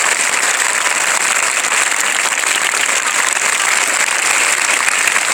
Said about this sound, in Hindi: जोरदार ताली हमने लिए बजाओ